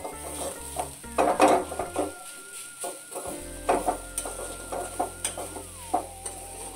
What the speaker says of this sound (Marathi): आता ह्याला हलवून मिक्स करून घेऊ